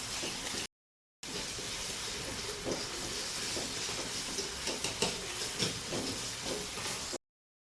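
Onions frying in a pan for a simple home-style biryani, a steady close hiss and sizzle with faint stirring scrapes, continuing without talk after a brief gap.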